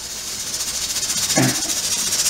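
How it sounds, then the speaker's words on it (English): Steady close hiss of steam from a pressure canner with a 10-pound weight jiggler, rocking in quick regular pulses, with a brief rattling burst about midway and no talking. "see my little jiggler jiggling? That's a 10-pound weight, and what happens, that steam in there pressures up"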